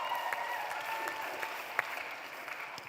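A round of applause for panel speakers at a development-reflection event, an audience clapping steadily and evenly throughout, fairly distant and continuous with a few sharper claps.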